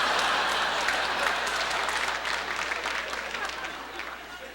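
A comedy special audience breaks into applause, a dense burst of clapping that starts loud and slowly fades over a few seconds with no talk.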